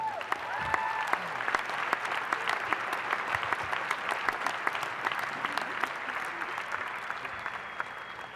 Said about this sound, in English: Y'all give Kevin a round of applause.